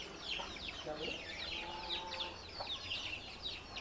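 Hens and chicks for sale at a poultry seller in Nellore cluck and peep continuously, a busy layer of short calls close by with a low background hum.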